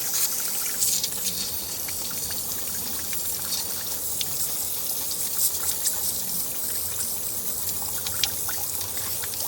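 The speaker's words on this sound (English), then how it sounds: "That is with a garden sprayer" A garden sprayer applies foaming degreaser in a steady hiss with a trickling, dripping wash, close and continuous, with no one talking.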